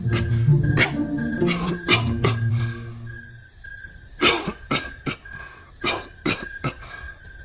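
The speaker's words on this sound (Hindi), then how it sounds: "ओफो, इनकी इस खांसी से तो मेरा सर दर्द करने लगा है।" Several harsh coughs in bursts, a rapid cluster early on, then a pause followed by more spaced-out coughing fits, close and loud.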